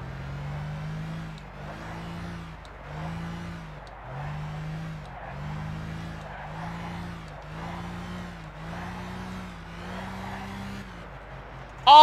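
A racing car in the Gran Turismo 6 video game, driven in a one-make race, with its engine revving up and dropping back in a steady rhythm of gear changes, loud and continuous with no talking.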